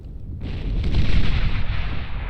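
Energy converters blow up in the real-time strategy game Beyond All Reason, a sudden loud, booming blast that swells into a continuous roaring, crackling rumble of explosions with no voices.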